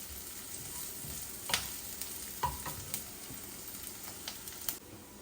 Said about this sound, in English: And keep stirring it so that this pink color becomes transparent first and light brown.